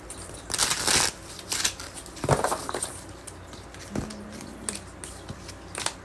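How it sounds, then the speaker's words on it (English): A tarot card deck is shuffled by hand, with several soft papery riffles and slaps spaced over a few seconds, close and fairly quiet against a faint room background. "let me shuffle the deck and I will get you a bonus card."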